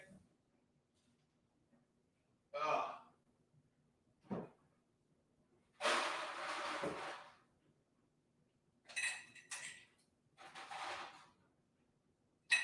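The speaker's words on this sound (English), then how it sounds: "Ice hitting the glass." Ice cubes dropping and rattling into a drinking glass indoors: several separate quiet clinking bursts with silent gaps between them, a few lasting longer as the cubes tumble and settle.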